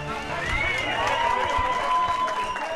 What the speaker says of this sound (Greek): Με χειροκροτήματα υποδέχονται στο αεροδρόμιο τον Λευτέρη Πετρούνια συγγενείς και φίλοι του